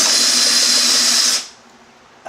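A handheld drill bores a hole through a homemade overlay for a modded Arcade1Up control panel, a steady high whining hiss for about a second and a half before it cuts off abruptly, leaving faint room noise.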